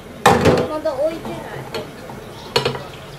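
Dishes and pans are washed and rinsed with sharp clatters and scraping knocks at close range, while people speak over the clinking.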